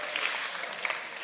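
Audience clapping at a motivational talk on book writing, a steady dense patter of many hands with a few cheers, continuous and fairly loud throughout.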